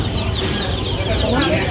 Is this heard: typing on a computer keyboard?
no